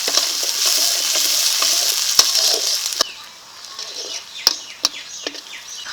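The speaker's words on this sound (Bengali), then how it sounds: "এখন দিয়ে দিচ্ছি পেঁয়াজ আস্তে আস্তে ভালো করে ভেজে নেব" Chopped onions with whole cumin seeds frying in hot oil for a fish curry, a steady bright sizzle that quiets partway through, with a few sharp clinks of a spatula against the pan and faint bird chirps in the background.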